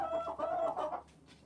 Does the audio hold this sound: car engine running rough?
no